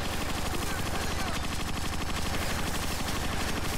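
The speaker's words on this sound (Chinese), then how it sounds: "试下用机关枪睇下打唔打得爆佢先。" Rapid machine gun fire in the Transformers: Rise of the Dark Spark video game, a dense, evenly pulsing burst of shots running continuously at a steady loud level, with a voice talking over it.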